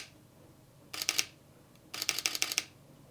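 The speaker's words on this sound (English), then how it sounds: "the shutter on this camera is pretty loud compared to other cameras and brands that I've tested" A Sony A7IV mirrorless camera fires its shutter in two quick bursts of rapid clicks, the first short and the second longer, crisp and close against a quiet background.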